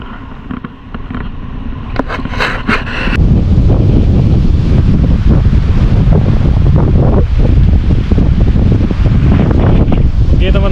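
A strong west wind at sea roars steadily and loudly across the microphone, a dense unbroken rush that thickens after the first few seconds, with faint water sounds beneath.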